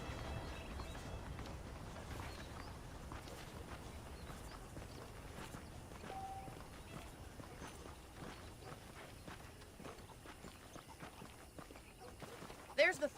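Horse hooves clip-clop at a steady walking rhythm in the western game Red Dead Redemption, soft and fairly quiet, under a voice talking throughout.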